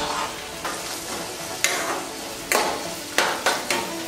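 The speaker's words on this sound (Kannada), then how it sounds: "ಎರಡನ್ನು ಹಾಕ್ಬಿಟ್ಟು ಸ್ವಲ್ಪ ಹೊತ್ತು ಫ್ರೈ ಮಾಡಬೇಕು ಕರಿಬೇವಿನ ಸೊಪ್ಪು ಹಾಕ್ಬಿಡ್ತೀನಿ" Curry leaves and onions fry in a pan, a continuous sizzle broken by several sharp scraping stirs of a spoon against the pan, close up with no voices.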